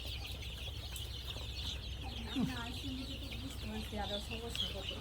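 Chickens pecking at their food give scattered soft clucks over a steady background hiss, with a couple of sharper calls in the middle and toward the end.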